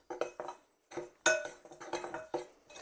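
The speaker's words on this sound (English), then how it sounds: "Just going to mix all the dry ingredients together." Dry waffle ingredients are stirred in a bowl, the utensil clinking and scraping against the side in quick irregular strokes, close and fairly quiet.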